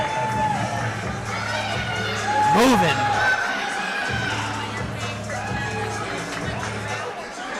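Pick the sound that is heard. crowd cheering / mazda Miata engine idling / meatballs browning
crowd cheering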